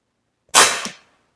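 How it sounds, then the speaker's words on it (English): A single sharp crack of an AirForce Texan air rifle shot, loud and close, with a brief ringing decay behind it. "I'm going to shoot again, aiming high."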